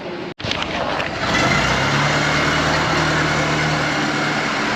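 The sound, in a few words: Ford Model T engine running during a ride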